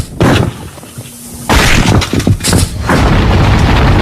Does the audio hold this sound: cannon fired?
yes